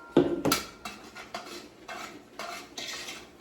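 A spoon scrapes and clinks against a pot as flour is stirred into fat for a roux for shrimp and corn bisque, with rhythmic close stirring strokes and a soft sizzle and no speech.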